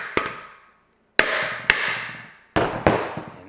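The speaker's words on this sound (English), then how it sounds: "we just have to start with the drive side hammering first" Sharp hammer blows on the drive side of a BMX hub during a rebuild, five distinct metallic strikes in uneven pairs, each ringing out and decaying, close and loud with no talking.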